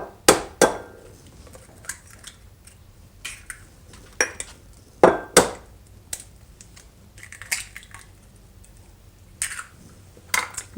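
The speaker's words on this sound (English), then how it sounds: "Add a little oil and break the eggs into the pan." Eggs cracked one after another into a cold pan with a little oil, giving sharp, close taps and shell cracks at irregular intervals, with quiet gaps between them and no talking.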